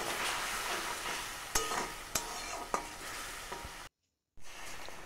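Continuous sizzling of potatoes in hot oil with salt and turmeric, punctuated by three or four distinct spatula scrapes and taps, then a short silent gap before frying noise returns.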